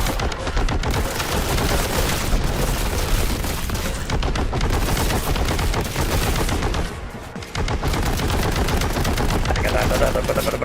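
Continuous rapid gunfire from a weapon in the video game Boltgun, a dense unbroken roar of shots that runs nearly the whole clip with only a brief dip, loud and close.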